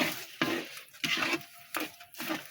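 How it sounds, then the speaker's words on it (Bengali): Mashed cabbage paste cooks in a pan while being stirred, with about five rhythmic bursts of scraping and sizzling heard up close. "এটা এইভাবে এখন যতক্ষণ নাড়ে নাড়ে নাড়ে নাড়ে লাল লাল না হবে ততক্ষণ পর্যন্ত এটাকে রান্না করা লাগবে"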